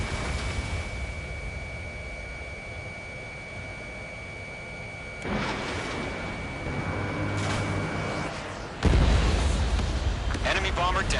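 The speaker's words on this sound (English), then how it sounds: "Missile hit." Missile impacts in Ace Combat 7 erupt as two sudden booming bursts partway through and near the end, over a steady hum of jet flight and a thin constant tone.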